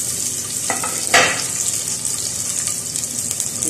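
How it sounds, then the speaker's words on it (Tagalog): Garlic frying in hot oil for chicken pork adobo, a continuous hiss of sizzling with a couple of sharp bursts as the pan is stirred, close and fairly loud with no voices. "papainit lang tayo ng mantika, tapos ilagay na natin yung bawang. Mag-igisa lang tayo."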